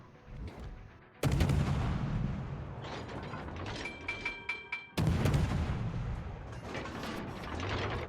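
Naval guns boom in World of Warships as an Akizuki destroyer battles New Mexico battleships, with loud broadband salvos at about one and five seconds, a string of sharp shots between, and mechanical clatter throughout.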